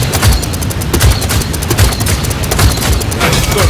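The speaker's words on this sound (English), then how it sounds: "You're firing on me!" Rapid continuous gunfire fills a Paladins beta shooting range on PC: dense, loud, evenly paced shots with heavy low thumps, close and steady throughout.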